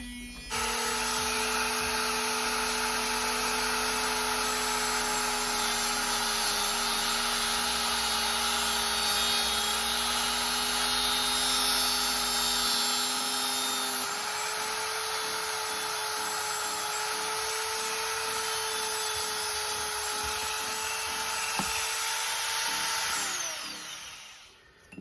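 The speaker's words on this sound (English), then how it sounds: "I will then cut the motor shaft with the motor turning, and that will give you a perfectly good straight cut." A Dremel rotary tool cuts through the spinning shaft of a small running motor, giving a loud, steady high-pitched whine mixed with the motor's hum that holds for about twenty-three seconds, then stops abruptly.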